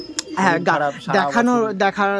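Pigeons coo in a loft where a family keeps more than a hundred birds, the close, throaty calls rolling in several overlapping bouts over about two seconds.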